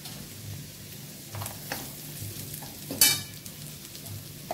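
Spices and chili powder frying lightly in a pan on low heat for a breakfast snack, a soft steady sizzle with occasional stirring scrapes and one brief louder clink near the end.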